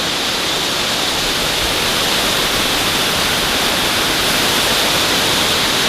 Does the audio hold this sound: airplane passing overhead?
no